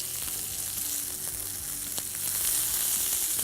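Chicken breast sizzles steadily on a grill while it gets flipped, a close, dense hiss of frying with a few faint clicks from the turning utensil.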